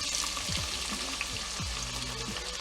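Onions and other vegetables sizzle and fry steadily in a pan of rendered oxtail fat and canola oil, a close continuous crackle with a few low stirring scrapes.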